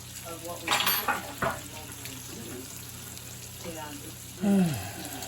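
Chicken pieces for chicken marsala flipped in a hot pan, a soft sizzle underneath with a few clattering bursts of utensil movement and a sharper hiss near the end, fairly quiet with a hint of voice.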